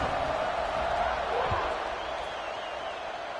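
Stadium crowd noise in the CFB 26 college football video game, Florida dynasty: a steady, broad roar of fans cheering at even loudness throughout, with a brief thump near the middle and no clear talk over it.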